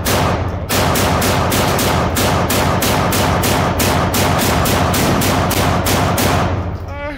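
A drum-fed gun at an outdoor shooting range fires a long, rapid string of about twenty evenly spaced, very loud shots. It stops abruptly at the end, and a voice is faintly heard afterward.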